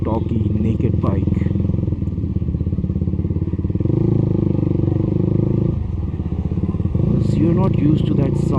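A motorcycle engine running loudly up close, its rough, steady rumble rising and falling as the revs change, with some clattering noise.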